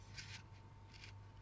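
Scissors snip through paper card in a quiet, close pair of short cutting strokes, faint and isolated with no talk.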